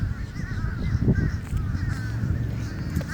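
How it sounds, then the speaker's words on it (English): A large flock of crows caws continuously, many rough overlapping calls mixing into a close, busy chorus outdoors. "There's like 80 million crows."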